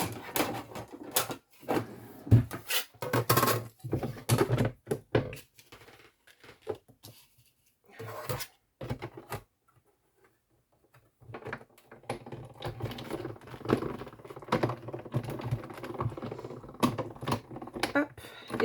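A die-cutting machine cuts scrapbooking bottle labels, giving off bursts of close clicking and clattering that come in separate rapid clusters with quiet gaps. Someone talks softly near the end.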